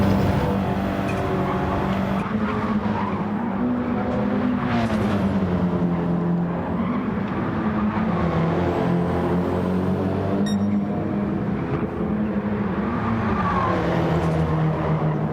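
Race cars roar through a Gran Turismo online race on the Deep Forest track, a Mazda among them, with steady engine drone and shifting pitch as the cars jostle closely, loud and continuous throughout.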